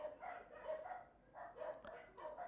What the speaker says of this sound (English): The dogs are angry.